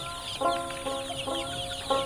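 Egyptian Fayoumi chickens at a poultry farm cluck in short repeated bursts, several calls spaced across the moment, close and moderately loud over a steady farm background.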